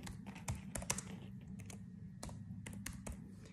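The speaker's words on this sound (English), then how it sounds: "Simply you can type here any name." Computer keyboard keys clatter in quick, uneven bursts while someone types a name into an Excel cell, close-up, crisp and a little quiet, with no talking.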